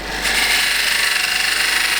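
Woodturning tool cutting a spinning winged Australian burl bowl on a lathe, a loud continuous scraping hiss with a steady rapid flutter, close and without talk.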